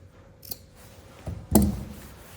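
Scissors snip small cuts into kameez fabric at the pleat marks: one faint snip, then a louder, fuller cut close by, with some rustling cloth in a quiet room.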